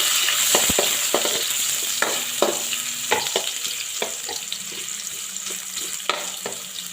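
Ginger sizzles in a hot pan with browning garlic for a sweet and sour fish dish, a steady hiss close up broken by scraping stirs and clinks of the spatula.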